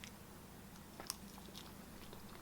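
Fries topped with onions, cheese and Zax sauce being bitten and chewed close to the mic, a faint soft crunch over a quiet room with no talking.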